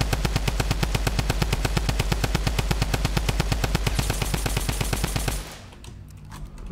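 Sustained rapid automatic gunfire in the game Fortnite, a loud steady stream of evenly spaced shots lasting several seconds before cutting off into quieter game noise.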